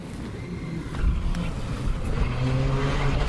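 A WRC2 rally car charges toward the stage-side spot and passes at speed, its engine growing louder and rasping hard, heard over open outdoor spectator ambience.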